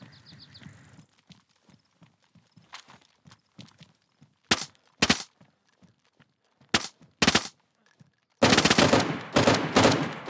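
Video game gunfire: loud, close cracks, first as single shots and paired bursts, then a sustained rapid volley near the end, with quieter footstep-like clopping in between.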